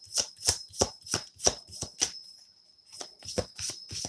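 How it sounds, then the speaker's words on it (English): Akashic oracle cards shuffled in quick rhythmic riffles, about seven crisp bursts, a short pause, then several more, close and clear with no talking. "Let's get Akashic cards for Virgo."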